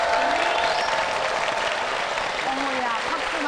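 A studio audience at a Korean debate show gives sustained, even applause, a dense wash of clapping with a voice briefly heard beneath it.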